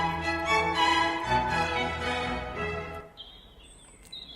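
Baroque orchestral strings playing Vivaldi's Spring, with violins imitating birdsong: sustained bowed harmonies, then a thin high trill standing alone as the lower parts drop away.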